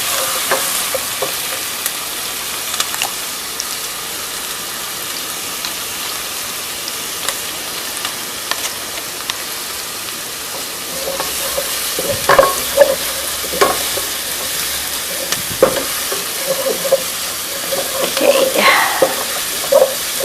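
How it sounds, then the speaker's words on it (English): Garlic and aromatics sauté in a pot for one-pot risotto-style pasta, a soft steady sizzle with scattered stirring scrapes and clicks, growing busier toward the end, with no talking. "Stir that up. And saute this until it's nice and fragrant."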